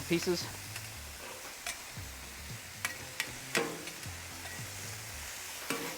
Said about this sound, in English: I've got my trusty Blackstone scraper. I'm going to shred this up just a little bit more.